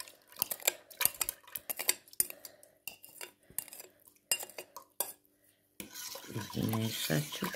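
A spoon or whisk clinks and scrapes repeatedly against a pot while pudding mix is stirred into milk, in quick irregular taps close by, followed by a longer rough swishing with a brief low hum.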